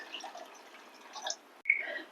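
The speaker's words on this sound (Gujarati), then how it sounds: "હવે આમાં હું પોણા વાટકા જેટલું પાણી ઉમેરીશ" Water is poured into a cooking pot while guvar dhokli curry is being made, giving a soft, faint trickle that pauses briefly and then resumes a little louder, with no talking.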